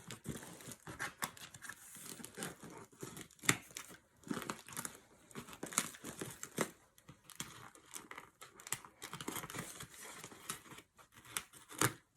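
Crinkly plastic packaging is crumpled, torn and snipped with scissors during an unboxing of art prints, the close, quiet rustles and cuts coming in irregular bursts with short pauses.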